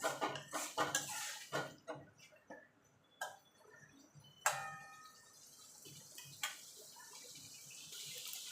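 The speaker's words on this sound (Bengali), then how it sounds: "চিংড়ি মাছটা দিয়ে মিনিট খানেক একটুখানি নাড়াচাড়া করে নেবো যাতে মশলাগুলো সব মাছের মধ্যে ঢুকে যেতে পারে" Prawns are stirred with spices in a pan for dahi chingri, giving a run of close, irregular metal spoon scrapes and clinks against the pan over a faint sizzle, with no speech.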